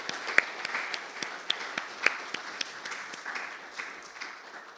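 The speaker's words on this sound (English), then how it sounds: "let's just give them another round of applause." Congregation applauding at a Sunday celebration service, a steady patter of many hands clapping at moderate distance with a few sharper individual claps standing out, fairly soft overall.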